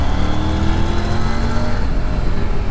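A Triumph Tiger Rally Pro 900 motorcycle pulls hard in second and third gear, its engine roaring loudly and steadily under acceleration, with dense exhaust and wind noise close by.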